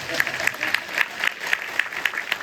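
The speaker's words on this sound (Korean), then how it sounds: "두분 의원님께 박수 한번 부탁드리겠습니다." Audience applause for two city council members at a gender equality week ceremony, a steady patter of clapping hands with distinct individual claps standing out over the crowd.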